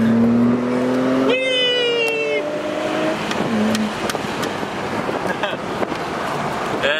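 Lexus IS300 sedan accelerating through smooth gear shifts, engine pitch climbing then dropping at each change, close and steady with road and wind noise, a voice talking briefly over it.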